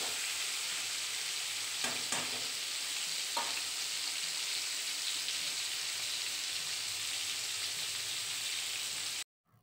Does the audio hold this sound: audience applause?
no